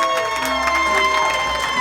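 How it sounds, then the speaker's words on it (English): Wedding guests clap and cheer loudly while the couple share a kiss at the cake cutting, a crowd of voices whooping and shouting over busy applause, with a few children's voices in the mix. "The longer you clap, the more they kiss"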